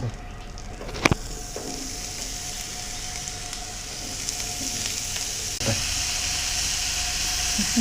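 Butter pieces sizzle and fizz in a hot pan with a steady, close frying hiss and a couple of faint knocks.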